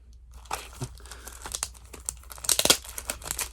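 Plastic Ziploc bag holding original Game Boy game cartridges crinkles and rustles in a series of close, sharp bursts that grow busier and louder toward the end.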